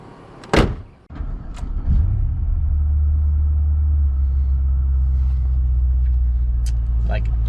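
A Pontiac GTO starts with a brief cranking burst, then settles into a loud, steady, deep idle rumble close by, with a door thump and faint clicks over it.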